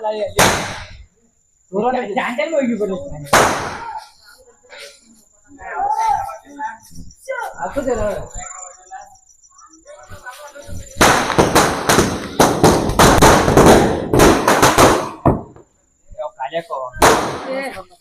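Firecrackers, including a long string cracker, burst in sharp pops, then build into a long, rapid crackling string, with people talking and shouting around them.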